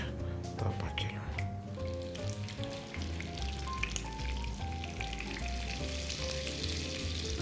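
Slices of calf liver sizzle steadily in a hot frying pan while a voice talks over the cooking and music plays in the background.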